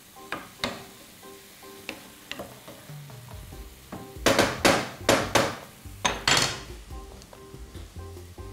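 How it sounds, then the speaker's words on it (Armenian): Finely chopped fresh tomato hits a hot pan and sizzles in several loud bursts, set between scattered clinks and scrapes of a utensil stirring against the cookware. "Ավելացնեմ թարմ լոլիկ,"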